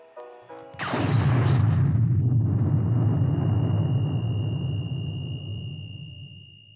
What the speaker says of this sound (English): the aircraft Enola Gay dropped the atomic bomb Little Boy on the city of Hiroshima